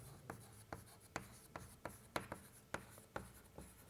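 Chalk or marker writing on a lecture-hall board, a quiet, regular series of sharp taps and scratchy strokes about every half second, with no talking.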